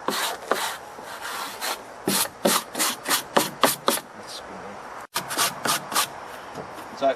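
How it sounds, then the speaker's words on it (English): A stiff brush scrubs dirt off rough sawn pine in a quick run of rasping, close strokes, about a dozen in a row, with a brief pause partway before the scrubbing carries on. "So we just want to give it a scrub and take off all the dirt"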